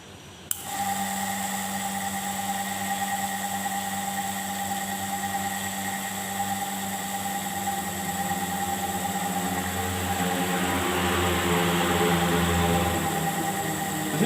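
A dust sampler pump for total dust measurement switches on with a sudden onset and then runs as a steady, loud motor whine with strong harmonic tones, alone and continuous throughout.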